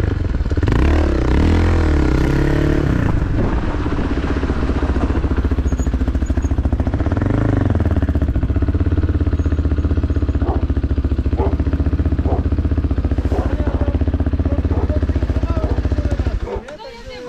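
An ALP 4.0 motorcycle engine revs and rises repeatedly during wheelie practice, loud and close throughout, with clattering and scraping and a voice talking over it before it cuts off near the end.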